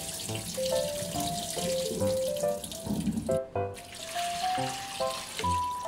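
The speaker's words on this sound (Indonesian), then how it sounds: "Setelah itu kita cuci dan bilas timunnya 2-3 kali bilas hingga benar-benar bersih." Tap water runs steadily into a kitchen sink as cucumbers are rinsed, with a continuous splashing flow and faint clinks over a background of soft music tones; no one speaks.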